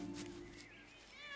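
Domestic cat meowing in the countryside, a faint, drawn-out meow rising and falling over a soft background hum.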